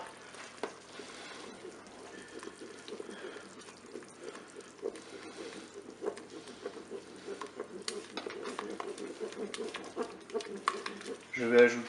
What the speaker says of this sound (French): Je mélange bien sûr.